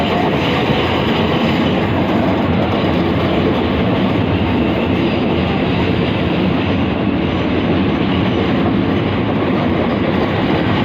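A British Rail Class 465 electric train passes through London Bridge with a steady, dense roar of wheels and traction noise. The sound stays loud and close for the whole stretch, and no voices are heard.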